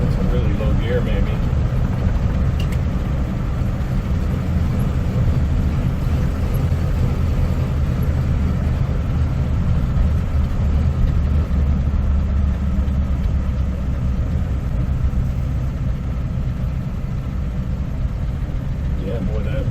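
A 1955 Pontiac Chieftain engine bogs down after a shift into third, giving a steady, heavy low rumble that drones on through the whole stretch with little change in pitch.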